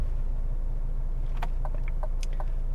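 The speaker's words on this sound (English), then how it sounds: "just driving the CT5 here" A 2021 Cadillac CT5 Premium Luxury sedan cruising at steady speed, heard from inside as a constant low road and engine rumble, with a few faint clicks and ticks over the top.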